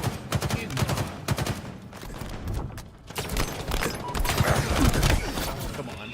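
Rapid bursts of Halo Infinite gunfire crackle in dense volleys, with scattered single shots and background game noise throughout.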